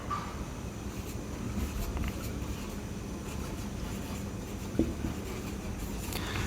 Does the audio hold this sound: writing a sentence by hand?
yes